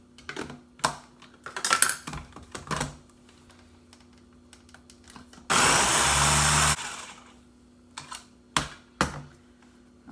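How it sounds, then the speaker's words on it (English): Butter-flavored shortening whipped with an electric mixer for pepperoni roll dough: a loud, steady whirring burst of a little over a second, set between scattered clicks and knocks of handling. "so I'm going to blend this up"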